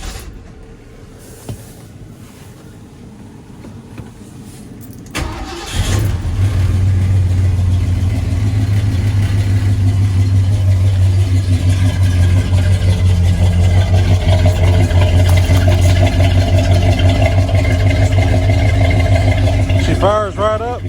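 1977 Ford F150 4x4 engine cranks and fires up in cold weather, then settles into a steady, deep, even idle that is close and loud, with someone talking over it.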